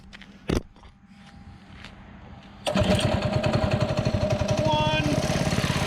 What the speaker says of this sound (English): One lazy pull, and it fires right up.